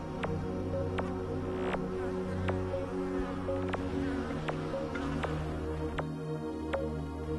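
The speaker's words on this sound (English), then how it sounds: "There are a few flies about the place and an infestation of bees which are attracted to the Land Rover for the water we carry." Insects, flies and bees, hum faintly around a Land Rover parked in the Australian outback, a low continuous drone with occasional sharp ticks and clicks scattered through the quiet bush background.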